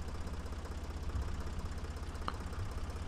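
A tractor engine in the video game Workers and Resources: Soviet Republic drones steadily at idle, a low rumbling throb with a faint click near the end.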